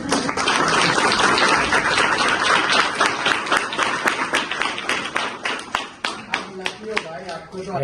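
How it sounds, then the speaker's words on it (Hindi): Audience clapping at Shrikant Bolla's talk rises into a loud, dense round, then thins into scattered individual claps toward the end. "ये तो तालियां है ना।"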